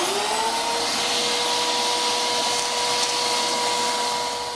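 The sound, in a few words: vacuum cleaner hose sucking up a penny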